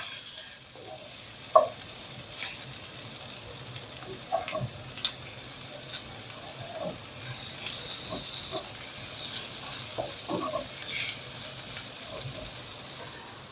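Onions and pork palette fry in a pan for a savory goat cheese and walnut tart, a soft steady sizzle with occasional stirring clicks and scrapes, fairly quiet and close.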